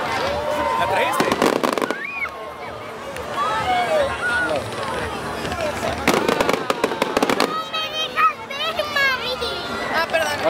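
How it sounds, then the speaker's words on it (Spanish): Bonfire Night fireworks at Stoke Park in Guildford: several loud bangs and crackling bursts come in clusters, with whistling rockets and people talking and calling out nearby throughout. "Es la música para los fuegos artificiales. Fuego artificial."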